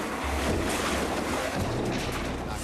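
Water rushes from opened containers down a narrow ditch in the desert, a loud, continuous broadband roar and churn with no voices.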